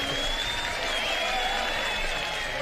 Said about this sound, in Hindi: इब्राहिम साहब के लिए तालियां तो बजाएं यार।